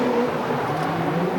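Drift cars, a Nissan S14 and a GT86, accelerate in a D1NZ drift series round at Mt Smart Stadium, producing a continuous engine drone heard at a distance with no commentary over it.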